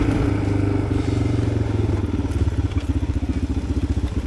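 Suzuki DR650 dual-sport motorcycle with failed steering stem bearings ridden on a British Columbia backcountry road, a loud, close, steady engine drone that settles into a rapid rhythmic pulsing with clattering thumps.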